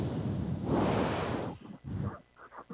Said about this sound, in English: Oh, it's going to be windy.